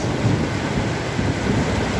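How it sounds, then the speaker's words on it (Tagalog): Heavy rain pours steadily as a dense wash of noise, with a low rumbling undertone like distant thunder. "sobrang lakas ng ulan"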